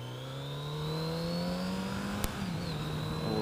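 Kawasaki Z900RS retro motorcycle with its stock exhaust, the engine holding a steady, rising rev with a smooth droning note, loud and close throughout, with a brief sharp click near the end.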